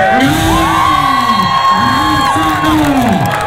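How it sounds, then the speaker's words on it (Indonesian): A volleyball match crowd, watching a Bhayangkara team, cheers and whoops loudly and steadily, with shouted voices rising and falling over a constant roar of noise. "tepuk tangan"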